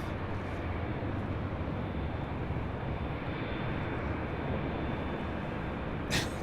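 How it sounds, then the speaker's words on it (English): A Boeing 787-9 Dreamliner on its takeoff roll at LAX, a broad, steady roaring jet engine rumble heard from a distance, continuous and unchanging, with no talking. "A 787-9 Dreamliner lighting up. Should be at north side takeoff."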